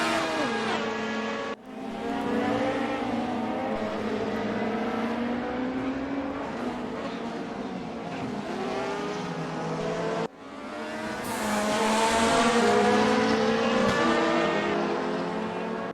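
Race car engines in the RaceRoom Racing Experience video game scream at high revs, with rising and falling pitch through gear changes, sustained loud and close, with no talking.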